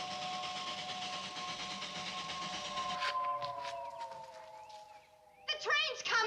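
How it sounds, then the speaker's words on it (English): Train whistle or horn of an arriving train in a sitcom scene, sustained steady tones lasting several seconds over rumbling noise, then fading, followed by a brief burst of bright clattering sound near the end. "The train's coming."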